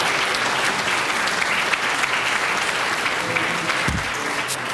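Sustained applause from a hall of fame ceremony audience, a dense, steady wash of clapping from many hands that stays loud and even throughout.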